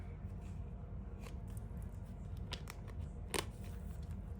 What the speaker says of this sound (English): Shuffling, I guess.